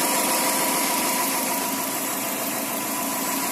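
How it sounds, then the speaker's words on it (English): A 2005 Subaru Impreza WRX with a 2.0L turbo engine idles steadily, its smooth mid-pitched hum continuous and close with no talk over it. "as you can hear, the engine is running perfectly fine."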